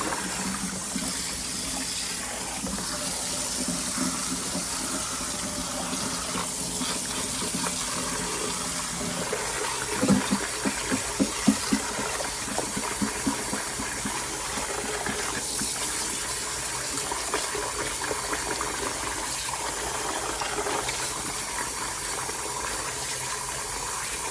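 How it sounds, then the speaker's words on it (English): A knitted toy is dunked in and out of water to rinse away soap bubbles, a steady running and sloshing water sound throughout with soft splashes midway. "we want to rinse until we have no more bubbles"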